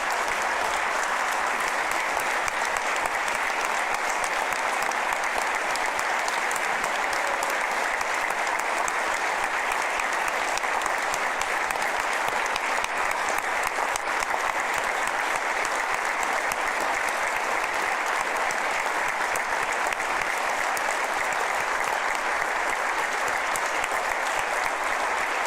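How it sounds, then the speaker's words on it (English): A large crowd of event attendees applauding nursing home staff who stand to be recognised, a steady, dense round of clapping that holds at full strength for the whole stretch, with no speech over it. "We'll give you a round of applause"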